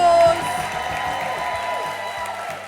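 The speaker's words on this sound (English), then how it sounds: "Give yourself a round of applause" Applause and cheering from a talent show audience, a broad steady wash of clapping under a louder musical backing, with a sharper burst right at the start before settling.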